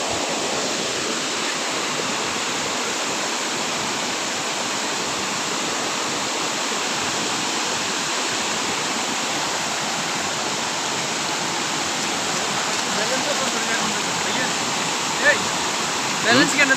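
Steady, dense rush of floodwater over a highway in Chhagalnaiya and Fulgazi fills the whole stretch, a broad continuous roar of fast-flowing water close by, with no pauses.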